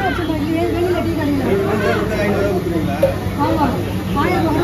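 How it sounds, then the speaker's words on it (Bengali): A dense crowd murmurs and chatters at a busy roadside tea stall, a loud continuous babble of overlapping voices close around the listener. "প্রচণ্ড ভিড় এখানে, পুরো লাইন"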